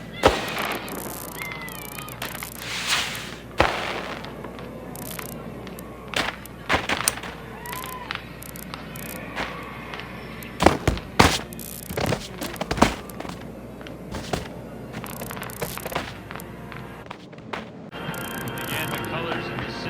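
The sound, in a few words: fireworks rockets exploding in Melon Playground video game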